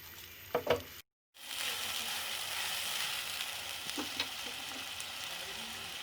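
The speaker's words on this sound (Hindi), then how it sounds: "प्याज को हल्का सा फ्राई करेंगे।" Onions fry in a pan with a steady, soft sizzling hiss after a couple of clanks and a brief gap, joined by occasional light stirring taps.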